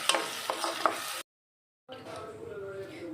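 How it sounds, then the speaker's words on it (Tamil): Jackfruit paste is stirred in ghee in a pan for jackfruit kesari, giving a scraping, sizzling stir that breaks for a moment of silence, then resumes more softly with a quieter frying hiss. "இதை நெய்யில் கொஞ்சம் நல்லா கிளறி கற்றுக்கலாம்"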